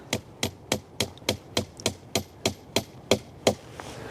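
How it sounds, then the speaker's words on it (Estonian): Hammer tapping a wooden dowel into a drilled hole in a tree trunk, eleven sharp, evenly spaced knocks at a steady rhythm, close and clear with no talking. "Siis sul on vaja haamrit ja koputad selle tüübli sisse."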